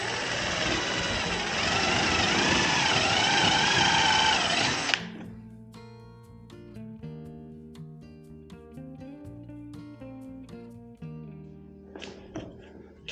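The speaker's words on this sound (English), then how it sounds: "drill one hole in the middle as well as I can" A power drill boring a hole into old wood trim, a loud close whirring run of about five seconds that stops abruptly, followed by a quieter tonal hum and light handling noises.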